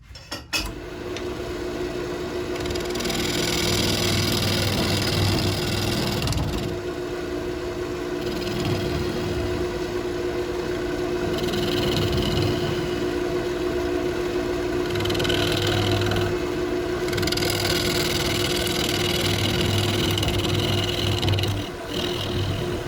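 A wood lathe turns while a spalted crab apple piece is hollowed out, giving a steady motor hum with recurring bursts of scraping and chattering as the tool cuts, close and fairly loud.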